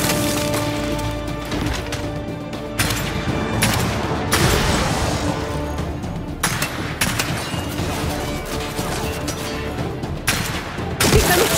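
A weapon fires in Gears 5 in rapid bursts of gunfire, loud and close, separated by short pauses, with crashing impacts mixed in among the shots.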